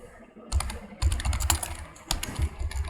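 Close typing on a computer keyboard comes in several short bursts of quick key clicks with brief pauses between them, moderately loud and with no voices.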